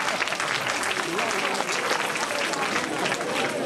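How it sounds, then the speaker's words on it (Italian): Audience applause at a live Christmas-season show, dense sustained clapping filling the room throughout, with a voice speaking faintly under it. "Facciamo un applauso."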